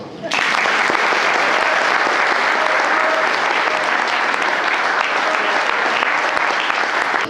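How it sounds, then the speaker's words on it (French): Loud, sustained clapping from an audience at a French municipal election campaign meeting, starting abruptly and holding as a dense, even roar for several seconds. "Donc je vous demande de vous applaudir"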